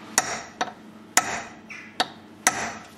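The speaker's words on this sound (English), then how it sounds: "We centre punch right in the middle of the bolt." A hammer taps a centre punch on a Renault Twingo front brake bolt: five short, sharp metallic strikes with brief ringing, close and loud, spaced unevenly with no talk.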